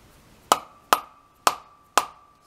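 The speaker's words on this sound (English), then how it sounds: "Give it a couple whacks" Four sharp metallic whacks strike vise jaws to seat the parts tight in a machine shop vise. Each close, ringing blow is spaced roughly half a second apart and decays quickly, with no talk.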